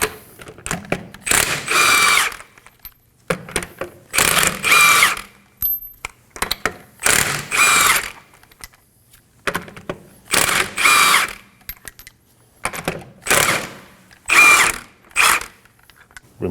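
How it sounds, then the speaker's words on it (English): Bursts of a power tool spinning off the lug nuts of a 2016-2020 Kia Sorento rear wheel with a 21mm socket, roughly six loud whirring runs of about a second each, separated by short pauses and quieter clicks. "Using a 21mm socket, we're going to remove the lug nuts."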